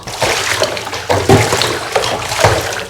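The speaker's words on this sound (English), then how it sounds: "let's shove the plug in, and let's just turn on some hot water." Hot water runs from a tap into a plugged sink, splashing and gushing steadily while a dirty Dell motherboard is washed in it, loud and close throughout.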